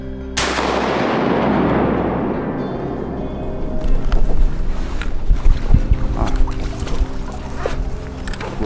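A single loud, close shotgun blast rings out during a duck hunt from a tree blind, its echo decaying over a few seconds, followed by wind buffeting and rustling movement.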